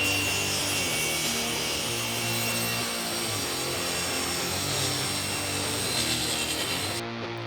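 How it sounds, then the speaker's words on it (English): Oak, walnut, maple and cherry boards are cut and ripped in a woodshop, a continuous loud rasping, whirring cut with steady buzzing and no pauses, ending abruptly near the end. "I planed, jointed, cut, and ripped oak, walnut, maple, and cherry down to specific sizes"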